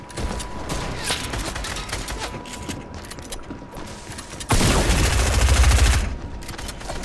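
Video game gunfire crackles in a steady stream of rapid shots under mechanical rattling, then swells into a louder, heavier burst for over a second before settling back.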